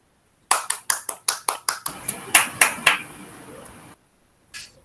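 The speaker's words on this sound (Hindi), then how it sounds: "जोरदार तालियों से प्रांजल और ऋचा का स्वागत करें" A burst of sharp hand claps welcomes two speakers at a school Hindi Day celebration, about a dozen quick close claps that loosen into brief scattered applause, then fade to silence before one last clap.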